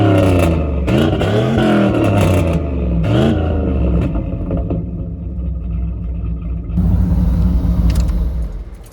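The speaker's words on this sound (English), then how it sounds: "It has a mild cam in it. It's got a Flowmaster exhaust, and it sounds really good." A car engine fitted with a mild cam and a Flowmaster exhaust revs up in several loud bursts, then settles into a deep, lumpy idle rumble before swelling again near the end.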